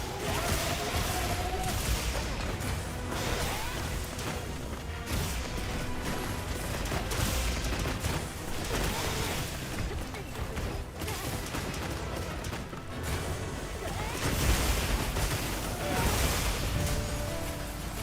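A heavy bowgun fires in Monster Hunter Wilds amid dense, loud game-combat noise, with repeated booming shots and impacts layered over clattering mechanisms and whooshes, sustained throughout.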